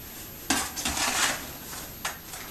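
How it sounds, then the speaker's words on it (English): Fire clay and sand are mixed into mortar, heard as a few close scraping and gritty stirring strokes with soft knocks against a container, moderately quiet. "One of fire clay, two of sand. I'm gonna mix that real good,"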